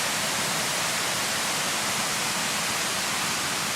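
Water gushing out of a coal mine drift opening at Kaymoor in the New River Gorge makes a steady, broad rushing roar, close and constant, like a small waterfall.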